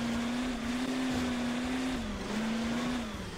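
A steady engine roar in the racing video game Hill Climb Racing 2 holds a sustained drone that dips briefly in pitch partway through, loud and continuous like a racing car.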